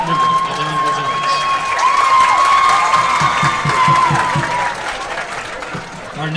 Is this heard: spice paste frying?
no